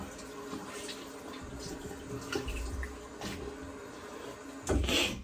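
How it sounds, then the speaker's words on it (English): A straight razor gets a quick rinse under a running tap: a steady rush of water with a few light knocks, ending in a louder splash. "I'm just going to do a quick rinse"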